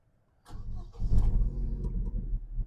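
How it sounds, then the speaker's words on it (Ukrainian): A 2007 Opel Astra H with a 1.6 petrol engine cranks, catches and settles into a steady, close, loud running rumble with no talking. "Перевірка стану роботи двигуна."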